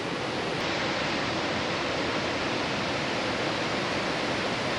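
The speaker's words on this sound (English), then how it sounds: "Nice big waterfall." Cameron Falls pours as a loud, steady, unbroken roar of rushing water filling the whole scene without pause or voices.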